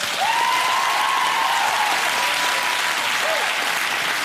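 Studio audience applauding a bodybuilder on a comedy panel show, dense continuous clapping at steady volume, with a faint tonal squeal briefly rising above it.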